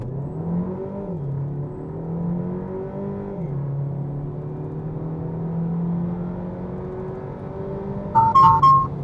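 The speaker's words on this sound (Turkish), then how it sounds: "Bu sefer launch kontrol yapacağım. Yani gaza bastım. Freni çektim." A 1.3 TCe Renault Megane accelerates hard from a launch-control start, the engine note rising and dropping through gear changes in a steady in-cabin drone, with a few short chimes near the end.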